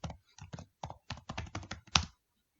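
Close, quiet typing of Java code on a computer keyboard, coming in quick irregular bursts of clicks separated by short pauses, with the last keystroke slightly louder.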